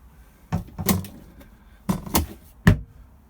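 Cupboard doors on a bathroom unit in a 2015 Auto-Sleepers Nuevo motorhome are handled nearby, giving several short knocks and clacks in two clusters followed by a final sharper thud.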